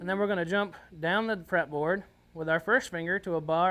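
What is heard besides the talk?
No distinct noise like a dog, phone or traffic.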